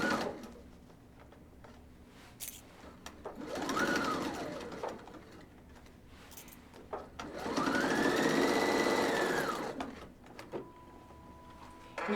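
A sewing machine stitches pleats into fabric using pleating tape, running in two sustained bursts of steady mechanical whirring with quiet pauses between while the fabric is adjusted.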